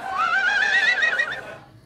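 A single horse whinnies loudly and close, a bright wavering neigh rising and falling for about a second and a half before cutting off into quiet.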